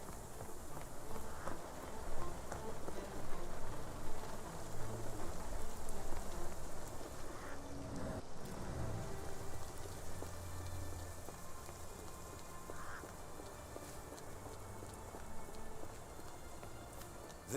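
Steady rain falls throughout in a video game set in Victorian London, a dense, even hiss of drops on surfaces with occasional soft footsteps and faint thuds mixed in.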